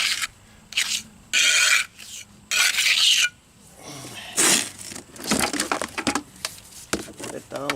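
Trowel working fresh concrete during a repair of concrete steps, giving repeated rasping scrapes in short bursts, close and clear, with a voice talking between strokes.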